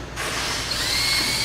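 A power drill bores a mounting hole for a fuse in a cover during a fan controller wiring install, running as a steady, loud whine that holds for the short burst on its own.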